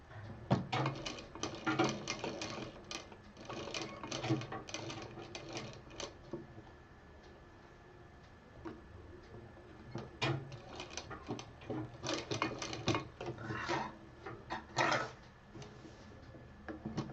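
A sewing machine stitches lace onto a fabric cover in short irregular bursts of rapid clatter, pausing between runs, fairly quiet and close with no talk.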